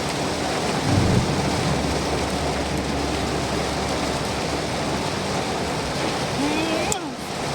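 Steady, heavy rain roars without letup, with a low rumble like thunder near the start and a brief voice toward the end.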